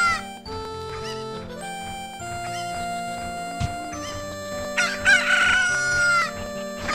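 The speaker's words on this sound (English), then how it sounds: "I'm gonna kill the chicken, just to show you guys what happens when you fuck with the chicken." A chicken clucks and crows in Zelda: Ocarina of Time Master Quest, sharp bird calls rising over steady game music, with a loud burst of squawking near the end.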